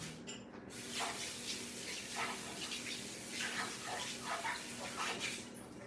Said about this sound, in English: let me just rinse my hands before I go touching the stove